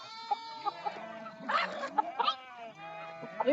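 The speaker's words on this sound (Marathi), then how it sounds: "मेंढर घातले आता वाघरत" Sheep bleat in their pen on a village farm. Several overlapping, wavering calls repeat steadily close by and are joined by other animal noises.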